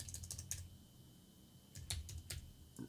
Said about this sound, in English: so I'll type it in here.